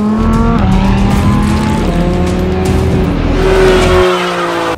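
Powerful race cars roar at the Crazy Run event in Cortina d'Ampezzo in the Dolomites, with sustained loud engine noise, rising and shifting revs, and a tire squeal as a car passes close.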